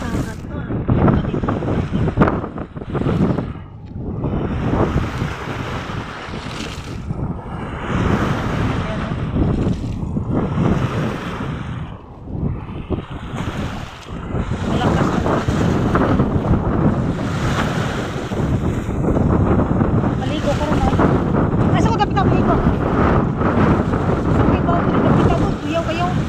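Strong sea waves crash and surge around a boat while heavy wind roars across the microphone, a loud, continuous wash of noise with brief dips between gusts.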